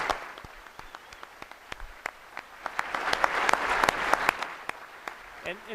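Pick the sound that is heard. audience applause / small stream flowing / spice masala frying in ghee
audience applause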